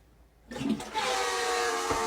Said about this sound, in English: Can somebody tell me why my toilet sounds like this?